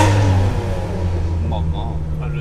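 Ferrari exhaust roaring on the Montlhéry speed ring at an Italian car meeting, a loud steady drone that dips and swells slightly, with a voice talking over it.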